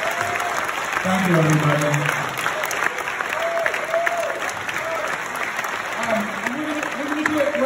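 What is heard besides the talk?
applause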